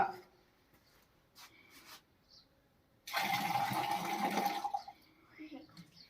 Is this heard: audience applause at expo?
no